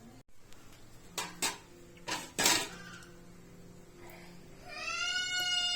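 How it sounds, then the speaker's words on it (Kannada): A plate is picked up and food served at home, with a few sharp clinks and clatters of dishes and utensils close by, followed by a faint high-pitched tonal whine, with no talk. "ಫಸ್ಟು ತಟ್ಟೆ ತಗೊಬೇಕು ತಟ್ಟೆ ತಗೊಂಡು ಎಲ್ಲ ಬಡಿಸ್ಕೊಂಡು"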